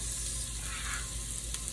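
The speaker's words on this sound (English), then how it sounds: "I love that sizzle." Steady, close sizzling and crackling of carrots frying in a hot soup pot, with faint stirring movement.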